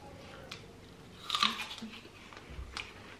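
An apple is bitten and chewed up close, giving one crisp, loud crunch of the bite followed by softer wet chewing crunches in a quiet room.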